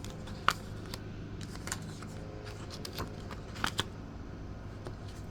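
Tarot cards being shuffled by hand, a soft, quiet rustle with a few crisp flicks and snaps scattered through it, no talking.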